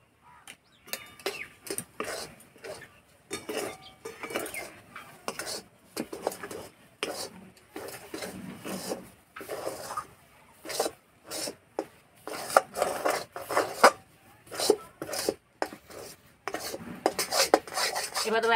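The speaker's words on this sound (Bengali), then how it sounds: "এইভাবে এবারে তলা থেকে নাড়তে হবে, নাহলে তলাতে লেগে যাবে" A spoon scraping and stirring a thick ripe jackfruit naru mixture from the bottom of a pan, repeated rough rubbing and scraping strokes in uneven bursts with short pauses, close and clear, no talking.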